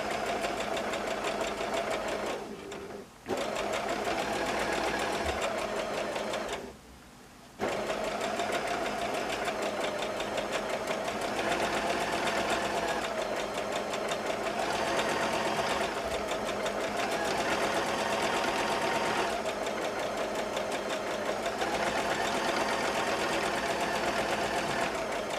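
A sewing machine set to a three-step zigzag stitch joins two pieces of wadding, running steadily and loudly with a fast mechanical whir and two short pauses.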